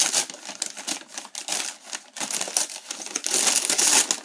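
A wrapped pack of Mets baseball cards is torn open up close, giving loud crinkling and ripping of the wrapper in irregular bursts with brief pauses and no speech.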